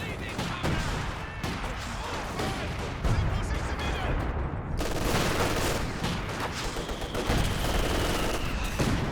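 Soviet conscript infantry in Company of Heroes 2 fire at a building in a 2v2 match, a continuous crackle of rifle and machine-gun shots with heavier booms mixed in, under a caster's voice.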